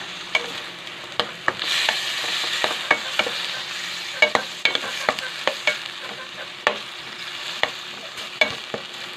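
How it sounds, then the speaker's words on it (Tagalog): Garlic and onion sautéing in a hot pan, a steady close sizzle broken by regular scraping clicks of a spatula stirring, with no talk. "mag-isa na tayong bawang at sibuyas"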